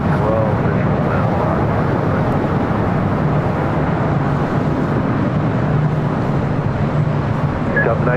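A Boeing 777 airliner, Air New Zealand flight 6, arrives on runway 25 left at LAX. A steady, loud, low jet roar fills the whole stretch without a break, and voices talk faintly underneath.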